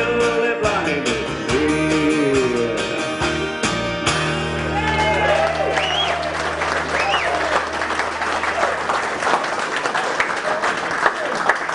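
An audience at a variety artist's show applauds the winners with sustained clapping that holds steady for the whole stretch, with a few shouts and some music early on.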